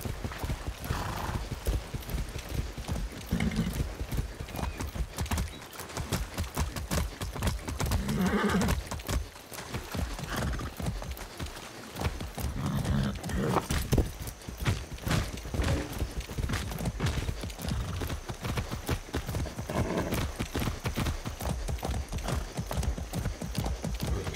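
Rapid clip-clop of hooves pounding continuously in the video game Far Cry 6, with an occasional horse whinny rising over the galloping.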